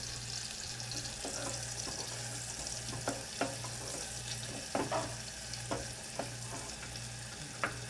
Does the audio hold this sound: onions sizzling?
yes